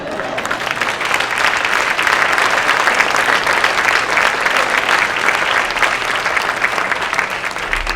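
Sustained applause from a campus audience honoring a retiring speaker, dense steady clapping throughout with a faint crowd murmur, loud and continuous from start to finish.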